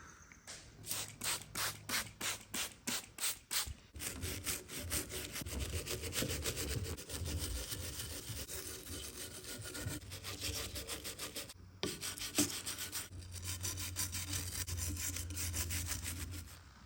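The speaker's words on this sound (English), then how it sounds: "After what feels like an eternity of cleaning and scrubbing and wiping up with clean rags, the front cover and assembly is now pretty much as clean" An old alternator's front cover is scrubbed clean with a brush: steady rhythmic strokes give way to continuous rasping friction that runs with brief pauses, close and fairly loud, with no talking.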